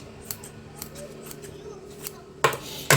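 Cloth being cut for a dhoti with scissors, a few quiet snips followed by two louder, crisp cuts near the end.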